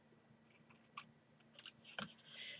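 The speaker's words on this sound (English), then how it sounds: "So we can cut that away." Scissors snip cardboard for a small chocolate-bunny box in a few quiet, separate clicks and cuts, close up, with no talking.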